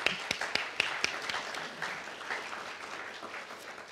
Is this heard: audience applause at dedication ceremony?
yes